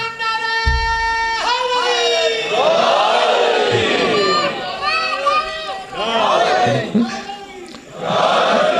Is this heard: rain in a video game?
no